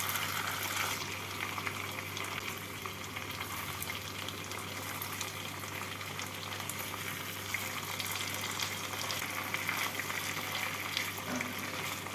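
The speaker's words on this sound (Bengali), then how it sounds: "মাছগুলোকে সাজিয়ে দিয়ে দুদিকই হালকা লাল করে ভেজে নেব" Rui fish pieces fry in oil in a pan over medium-low flame, giving a dense, steady sizzle that stays even from start to finish and is heard alone, close and clear.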